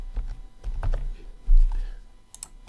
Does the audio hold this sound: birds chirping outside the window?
no